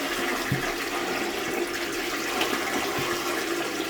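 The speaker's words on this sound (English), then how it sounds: "And I'm going to flush." A household toilet flushes at moderate volume with a steady rush of swirling water draining down the bowl, joined by a few soft knocks and clunks along the way.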